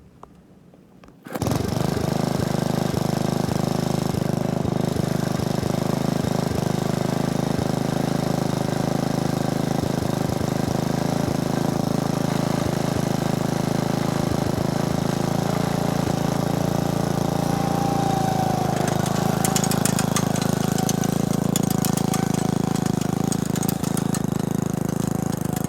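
A 1962 Briggs and Stratton engine on a vintage machine starts abruptly and then runs loud and steady, a continuous close mechanical drone with a little added rattle near the end.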